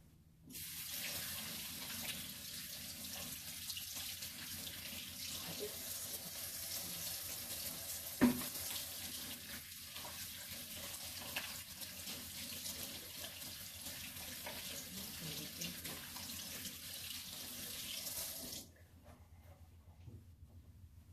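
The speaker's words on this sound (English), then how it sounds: "I'm gonna wash my hand now." A tap runs steadily into a sink during hand washing, a constant close hiss of flowing water that lasts most of the time before shutting off.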